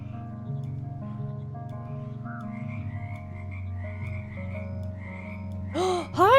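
A frog in the video game Mudborne gives a loud croaking ribbit near the end, standing out sharply against soft game music.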